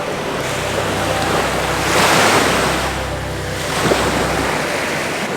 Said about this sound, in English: what I really want to do is capture the waves as they're receding and creating lines on the beach